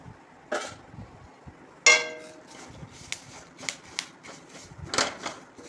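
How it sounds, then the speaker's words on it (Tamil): Curry leaves dry roasting in a pan: a run of sharp, dry crackles and ticks, irregular and close, with one louder snap early on and scattered pops after, no talk. "இனி கருவேப்பிலை போட்டு வறுக்க"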